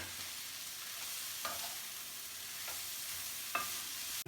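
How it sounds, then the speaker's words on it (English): Millet noodles and vegetables stirred in a pan over a constant low hiss of cooking, with a few soft scrapes of the spatula spaced a second or two apart, fairly quiet and without speech. "After stirring, this is how the vegetables are mixed up with the noodles."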